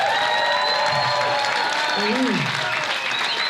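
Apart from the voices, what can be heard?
audience applause for the first Capsule team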